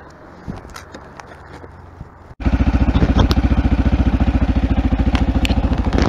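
A Mondial Rx3i motorcycle in cold weather starting on the electric starter at the first try, then a loud, close single-cylinder idle thumping in a rapid, steady rhythm after quieter handling noises.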